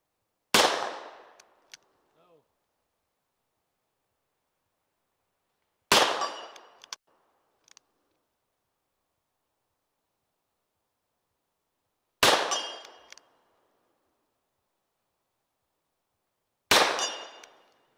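Four single shots from an S&W M1917 revolver firing .45 ACP at a distant 10 by 10 steel target, each a loud sharp crack with a brief ringing tail, spaced several seconds apart with silence between.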